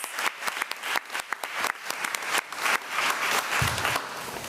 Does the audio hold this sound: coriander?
no